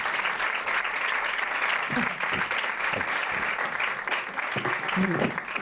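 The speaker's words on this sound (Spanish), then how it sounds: "vamos a dar una bienvenida y un aplauso enorme a Sonsoles Sonega que nos acompaña" Studio audience bursts into sustained applause welcoming a guest onto a talk show, a steady wash of clapping throughout with a few louder hand claps standing out near the end.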